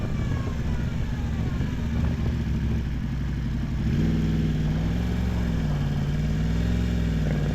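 Motorcycle engine running as the rider shifts down through the gears, a steady mid-pitched drone with a clattering texture, the tone rising and wavering noticeably partway through, close and continuous.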